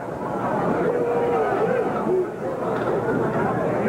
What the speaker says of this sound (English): You can hear the crowd reaction.